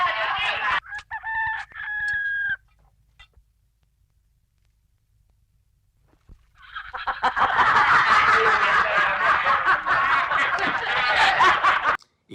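A chicken in a Spanish film scene gives a short burst of clucking calls, followed by a quiet gap and then a long stretch of loud, dense noise with voices, close and prominent.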